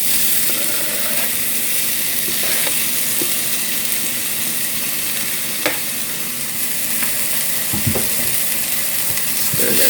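Chopped Roma tomato and softened onions sizzle steadily in a hot pan, with a constant frying hiss and occasional soft scrapes and knocks as the mixture is stirred.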